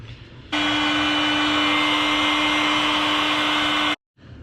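Heat gun shrinking heat shrink tubing over a crimped wire during Subaru fuel injector replacement: a steady, loud blowing whoosh with a constant whine, running about three and a half seconds alone before cutting off.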